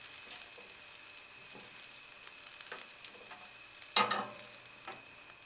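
Chicken satay pieces sautéing in a pan, giving a quiet steady sizzle with light clicks, stirring scrapes and a louder spattering flare partway through.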